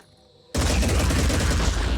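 Weapons firing in the tactical strategy game Phoenix Point: after a near-silent moment, a sudden loud, continuous barrage of shots erupts and keeps going, dense and close.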